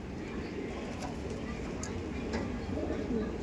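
Andhra pigeons coo softly and repeatedly at close range beneath a voice.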